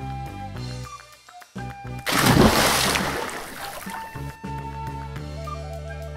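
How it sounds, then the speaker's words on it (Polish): Water splashes in a pool in a cartoon featuring Playmobil toy figures, a sudden loud rushing splash lasting about two seconds and then fading, set over steady background music. "ochlapałem troszkę pana"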